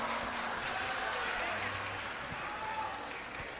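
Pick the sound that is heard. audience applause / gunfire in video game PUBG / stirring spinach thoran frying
audience applause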